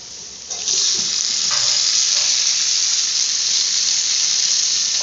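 Coarsely ground paste, with tomatoes, poured into a wide pan and sautéed for a yogurt curry, bursting into a loud, steady hissing sizzle after a short quieter start, with faint stirring and no speech.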